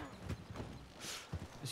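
A horse's hooves clop faintly in a Western setting, making a few soft, uneven beats under quiet background noise.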